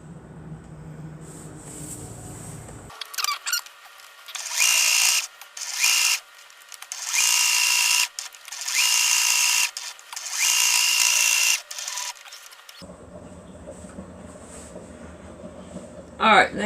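A sewing machine stitches around a handmade fabric potholder in several loud, close bursts of rapid mechanical whirring separated by short pauses, with quieter handling sounds before and after.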